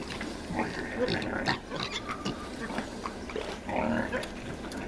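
Piglets grunt and squeal in a dense, busy chorus while suckling from a pregnant sow that is nursing another sow's litter, with steady close overlapping oinks throughout and a few louder squeals.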